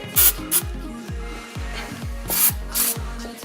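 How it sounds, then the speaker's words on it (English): Short hissing bursts from an aerosol can of PB Blaster penetrating oil sprayed under a Nissan 350Z during a rear suspension arm install. Four quick sprays sit over a repeating low thumping background. "I'll just spray the camera down with some PB Blaster,"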